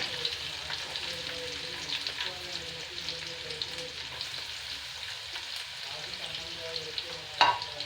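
Dried red chillies, green chillies and ginger frying for a mango pickle, a constant crackling sizzle with light stirring scrapes and one brief clatter near the end.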